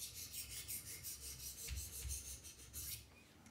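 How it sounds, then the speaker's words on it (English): A knife blade, a Benchmade Mini Reflex II auto, is drawn lightly along the stones of a Wicked Edge sharpener in a series of short, quiet, rhythmic rasping strokes, heard close. "I want to grind just a little bit more"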